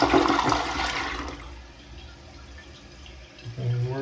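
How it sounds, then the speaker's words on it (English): A newly installed toilet gets its first test flush, a loud close rush of swirling water that quickly drains away and settles into a quieter trickle as the tank begins refilling. "We'll go ahead and give it a good first test flush."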